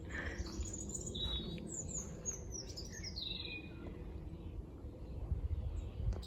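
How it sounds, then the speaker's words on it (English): A loud bird calls close by at an allotment, bright chirping notes standing out over a steady outdoor rumble and background noise, with no talking. "That was a really loud bird."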